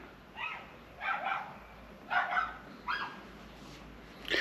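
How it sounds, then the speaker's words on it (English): A little dog barks five times in short yappy bursts at irregular intervals, moderately distant, over a quiet background hum. "We'll just wait for that little dog to fuck off"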